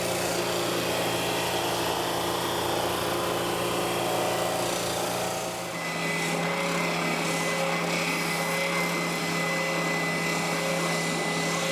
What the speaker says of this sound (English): refined the shape of the entire glued up unit on the disc and spindle sander